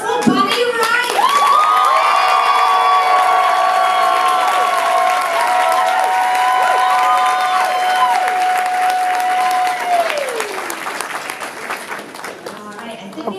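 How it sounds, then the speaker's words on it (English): A convention hall crowd at a comic con claps and cheers in a big welcome for Bonnie Wright; dense, loud applause with whoops and shouts runs steadily for about ten seconds, then thins out as a voice speaks. "if you can give a big warm welcome and round of applause for Bonnie Wright"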